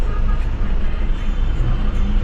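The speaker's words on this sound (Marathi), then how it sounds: "फुल ट्रॅफिक." Slow-moving road traffic queued through Khandala village, a continuous low engine and road rumble from nearby cars and trucks, steady and fairly loud without clear speech.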